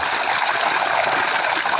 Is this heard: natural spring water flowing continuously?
yes